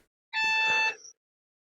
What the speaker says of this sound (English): Alarms like that, they bounce around weirdly, and sometimes you can't actually tell where they're coming from.